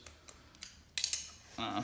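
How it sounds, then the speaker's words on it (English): Scissors snip black shards off a golf simulator sensor pad, giving a few quiet crisp clicks and snips close by, followed by a short burst of rustling. "You just want to cut those with your scissors."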